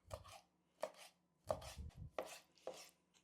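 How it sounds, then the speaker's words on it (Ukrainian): A knife chops fish into cubes on a cutting board in five distinct, unhurried strokes, each a crisp thud spaced about half a second apart, close and quiet. "Ось я нарізаю на ось такі смужки і нарізаю на кубик."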